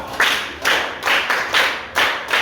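A classroom claps for a pupil at a maths lesson in Africa: six loud, evenly spaced group claps in a steady rhythm, close by and heard alone.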